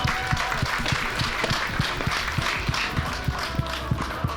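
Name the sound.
audience applause welcoming the president on stage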